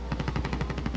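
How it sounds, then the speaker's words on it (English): Rapid automatic gunfire in the video game Call of Duty Warzone, about ten sharp evenly spaced shots in quick succession, loud and close, with no talk. "Oh, who's shooting at me?"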